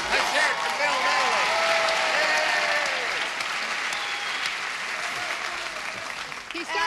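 A game show studio audience breaks into sustained, dense applause with scattered cheers, loud and steady across the clip and fading slightly toward the end, with voices audible over it.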